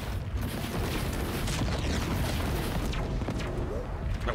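Spaceship weapons fire in the space combat game Chorus, a dense, continuous rumble of blasts and booms that stays loud throughout, with a voice faintly under the barrage.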